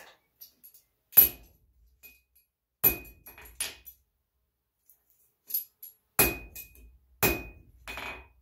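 Hammer blows on hot metal while forging a small antique-style chain binder: sharp, ringing strikes arriving in irregular clusters of one to three hits, with quiet pauses and light clinks between them.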